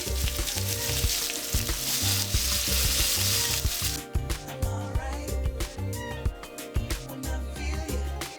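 Chicken pieces frying in a pan, a steady loud sizzle with bubbling crackle, settling into spattering pops and occasional clinks partway through.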